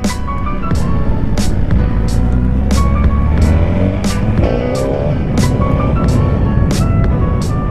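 A 2017 Suzuki GSX-R1000 sport motorcycle with traction control and a quick shifter drones loudly and steadily while ridden, mixed with wind rush and a regular series of sharp ticking clicks.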